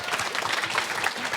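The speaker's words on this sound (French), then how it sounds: "Vous pouvez l'applaudir encore une fois, s'il vous plaît." An audience at a Paris Flash Talk on ecology applauds once more for a speaker, a brief, lively burst of many hands clapping close and full.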